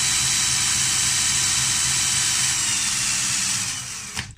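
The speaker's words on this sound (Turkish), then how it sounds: "Ancak benim şarjlı tornavidamın devri düşük kalıyor." A cordless screwdriver spins a small DC motor used as a generator, making a steady, loud, high motor whine that holds evenly and then winds down at the end.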